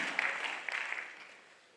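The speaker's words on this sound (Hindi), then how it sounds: "तालियों की गड़गड़ाहट के साथ इस क्षण का स्वागत" A theatre festival audience in Bihar applauds a welcome for the development commissioner: steady, moderately loud clapping from many hands that slowly fades toward the end.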